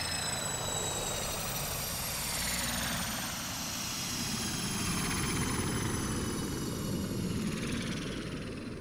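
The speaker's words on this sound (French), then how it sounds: "hop, la soucoupe atterrit" A flying saucer lands in a children's story, a sustained whooshing engine roar with a slowly rising whine and high shimmering tones that stays loud and steady throughout.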